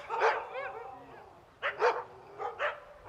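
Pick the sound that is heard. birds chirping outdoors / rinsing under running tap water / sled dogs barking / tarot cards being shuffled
sled dogs barking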